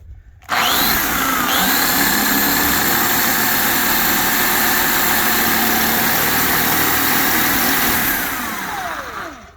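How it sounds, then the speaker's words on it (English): Power drill with a new split-point bit boring into the steel rocker panel of a Ford F-150, a loud steady whine held for about eight seconds close to the work, then winding down. "She's still tough to drill."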